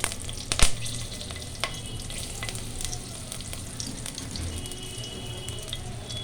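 Green and red chillies, with a torn bay leaf, frying in hot oil: a steady close sizzle and crackle runs throughout, with a sharp spitting pop near the start and scattered small bursts, no talking.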